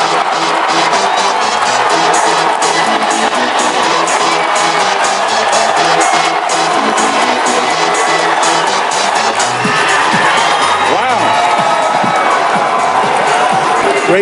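Loud crowd cheering and shouting at a Donald Trump rally in Pittsburgh, a dense sustained roar of many voices that swells and continues throughout without a break.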